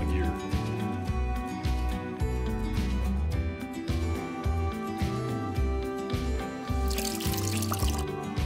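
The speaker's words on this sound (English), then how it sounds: "the next step is to wash this out with soap and water to get all the acid off the shaft and the gear" Running water and soapy scrubbing wash acidic solder flux off a metal shaft and gear, a continuous splashing trickle close up with uneven bursts and faint clatter.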